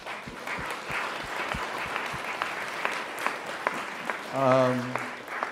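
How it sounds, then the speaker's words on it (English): A town hall audience gives a sustained round of applause, dense and even, with a voice briefly rising over it near the end. "we should all give ourselves a round of applause for being here together"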